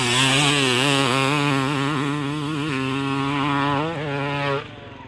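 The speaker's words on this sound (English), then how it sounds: "First two-stroke jump." A two-stroke motorcycle engine screams at high revs through a jump, a loud, close, steady buzzing wail with slight pitch wobbles that drops off abruptly near the end.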